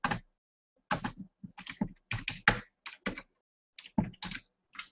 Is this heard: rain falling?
no